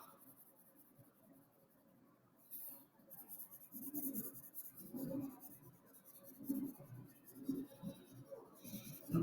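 Soft, scratchy strokes of coloring on paper, faint and close, repeating in an uneven rhythm against a quiet room.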